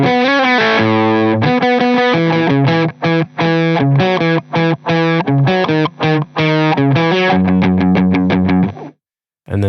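Distorted electric guitar plays an intro riff, loud and close, with chugging palm-muted notes and rapid repeated picking, ending in a brief silence.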